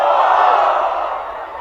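A large crowd of protesting students at Shivaji Park roars and cheers together in one loud, sustained mass of voices that fades slightly toward the end.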